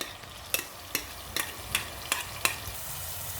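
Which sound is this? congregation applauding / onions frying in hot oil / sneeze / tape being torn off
onions frying in hot oil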